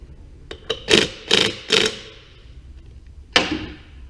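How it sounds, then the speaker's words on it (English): Metal clicks and scrapes as a cotter pin goes into a Chinese ATV wheel hub, several short sharp taps close together, then a pause and one last louder metallic clack. "Placing the cotter pin."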